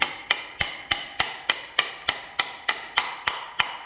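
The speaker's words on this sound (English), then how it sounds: "Use a brass hammer, gentle." Steady metallic taps from a brass hammer driving a part into an Evolution Mage drill, about three per second, evenly spaced and close up, ringing sharply with no voices.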